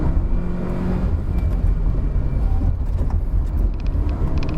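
A 2019 Proton Saga driven hard on the Genting hill climb, its engine and road noise roaring continuously and loudly from inside the car, with no talking.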